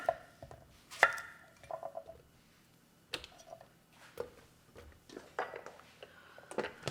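Knife chopping a cucumber into chunks on a cutting board in a home kitchen: irregular sharp, close knocks spaced by short pauses, some louder than others.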